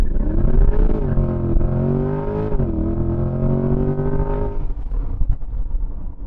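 A Corvette C8 Z51 Stingray launches hard from a standstill, its engine roaring loud and close as the revs climb and hold, then easing into a rougher, lower rumble toward the end.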